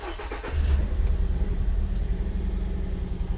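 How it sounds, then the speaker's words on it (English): A 2005 Nissan Altima engine cranks briefly, then fires up into a low, rumbling idle that carries on steady and slightly rough, close by with no talking. "let's see if we can find the keys and start this thing up"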